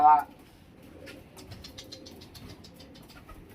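A racing pigeon coos softly and repeatedly in a loft after a brief louder sound at the start, with faint low murmuring throughout.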